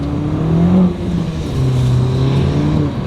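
A fully modified Mini Cooper JCW accelerates hard in first gear, its engine droning loud and close from the cabin, with the pitch climbing and then dipping briefly as the wheels spin, and no talking.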